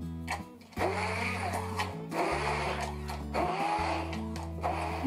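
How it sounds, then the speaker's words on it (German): A blender pureeing ice cream with a little milk into a vanilla milkshake, close and loud, its motor whining in several pulsed runs that stop and restart, with thick churning between bursts. "Und dann pürieren wir das einfach."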